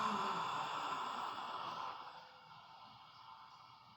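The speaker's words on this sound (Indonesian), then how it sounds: "Keluar napas dari mulut sekuat-kuatnya." A forceful exhale through the mouth during yoga breathing, a long breathy rush of air that starts strong and gradually fades, heard alone and close.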